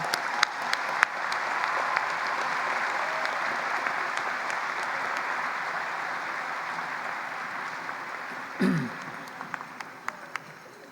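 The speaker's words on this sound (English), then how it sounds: "Big round of applause for class of 2020 entering" Continuous applause from a large audience greets an entering medical school class at a white coat ceremony, an even roar of clapping with a few sharper close claps and a brief thump near the end.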